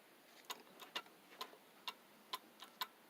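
A German-made cuckoo clock ticks steadily once its pendulum is set swinging, sharp regular clicks about every half second, close and clear against a quiet room.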